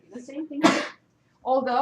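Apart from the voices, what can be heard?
sneeze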